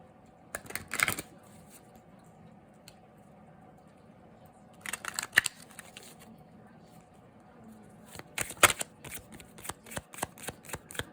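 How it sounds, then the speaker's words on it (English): A deck of Moonology oracle cards is shuffled by hand in three separate bursts of riffling and flicking, with quiet pauses between them and no talking. "Pull some Moonology cards."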